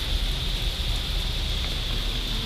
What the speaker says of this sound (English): It's cool to be able to hear the sound of the rain on your house